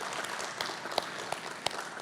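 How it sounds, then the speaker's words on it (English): Applause for the staff and helpers at a climate-action conference, a steady wash of clapping from the audience with a few sharper claps standing out near the end. "let's give him a round of applause"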